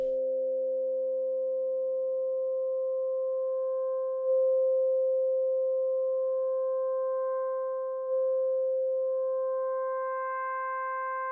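A smooth synthesizer pad holds one steady, pure tone for about eleven seconds while its envelope gradually brings in brighter overtones, soft and alone with no talking.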